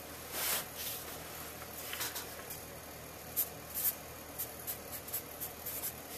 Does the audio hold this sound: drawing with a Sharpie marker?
yes